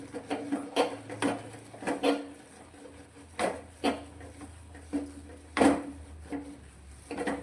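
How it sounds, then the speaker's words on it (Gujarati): Papdi flour dough for Gujarati khichu being stirred in a pan over low heat, irregular scraping and knocking of a spoon against the pan, fairly close, without speech. "લોટને આપણે સારી રીતે મિક્સ કરીશું"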